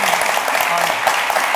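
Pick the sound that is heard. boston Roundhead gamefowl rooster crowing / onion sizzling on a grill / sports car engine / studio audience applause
studio audience applause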